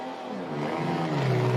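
A Formula Drift Japan race car revs hard on its run at Ebisu West Course, the engine note climbing steadily and loud throughout, with a continuous rising roar and no talking.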